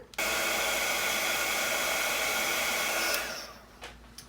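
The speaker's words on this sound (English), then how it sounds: "I'm going to let the gun heat up." A heat gun used for embossing glaze blows a steady, loud whooshing hiss for about three seconds, then winds down and cuts off, followed by a couple of small clicks.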